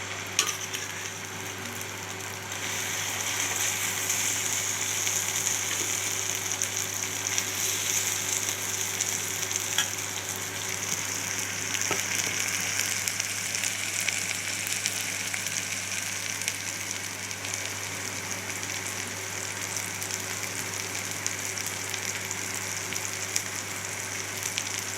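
Dried anchovies, nethili karuvadu, frying in hot oil in a kadai on a stove, a steady close-up sizzle with a constant low hum beneath it and a faint stir or scrape partway through.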